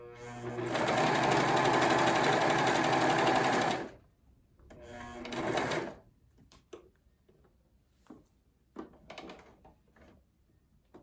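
Overlock sewing machine stitching fabric with its knife disengaged, a loud steady mechanical whir for about three seconds, a second shorter run, then quiet clicks and handling noises as the fabric is turned.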